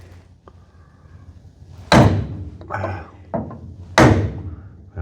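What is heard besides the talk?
hammer smacking a block of wood to seat a part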